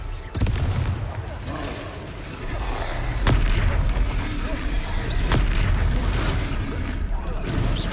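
In the Hogwarts Legacy video game the Confringo spell goes off in a fight, heavy booming blasts and sharp bursts over a constant rumbling game soundscape, with a loud hit near the start and more punches later.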